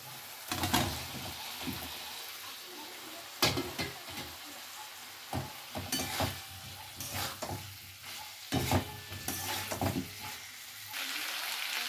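Tofu and potato pieces tipped into hot oil with cooked-down spice masala, sizzling and frying steadily with bursts of stirring scrapes in the pan.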